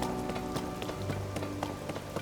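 Rain falls in the video game The Legend of Zelda: Tears of the Kingdom, a soft, steady patter with scattered droplet ticks under a low game soundscape, fairly quiet and without voices.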